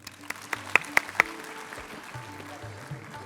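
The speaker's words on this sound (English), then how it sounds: "big round of applause" Light applause from a small audience at an award ceremony, several sharp, distinct claps standing out early before the clapping thins into a soft, scattered patter over a room hum.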